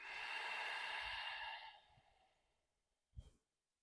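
A long, slow breath is exhaled through the nose during a morning yoga session. It starts as a loud, close hiss, fades over about two seconds, and ends with a short, soft puff after a pause.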